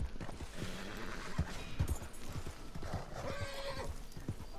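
Horse hooves clip-clop on the ground in Red Dead Online, irregular distinct thuds under a soft ambient bed, with a brief whinny partway through, moderately close.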